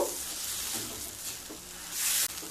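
Mashed bean bharta is mixed with coriander and mustard oil, a soft continuous squelching and scraping of a spoon in a bowl that rises to a brief, louder rasp near the end.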